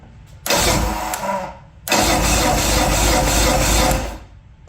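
Johnson GT 200 outboard motor cranking on a new starter, two loud bursts of churning, grinding turnover separated by a short pause, close and harsh without catching.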